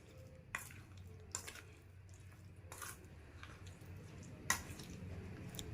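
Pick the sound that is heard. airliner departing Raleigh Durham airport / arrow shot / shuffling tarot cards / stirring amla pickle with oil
stirring amla pickle with oil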